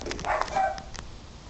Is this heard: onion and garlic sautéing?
no